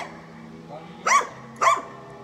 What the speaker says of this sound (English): That dog ain't too happy.